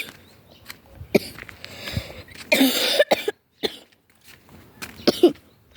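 A person coughs several times in sharp, irregular bursts, close to the mic, with quieter breathy pauses and throat sounds between them.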